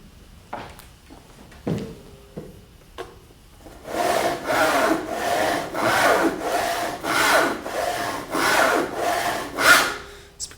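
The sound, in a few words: sawing wood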